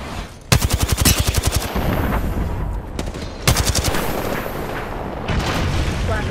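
Rapid automatic gunfire in the battle royale video game Apex Legends, loud, close bursts of evenly spaced shots broken by brief gaps over a dense, noisy game soundscape.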